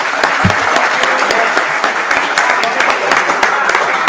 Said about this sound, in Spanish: Un aplauso para Diego.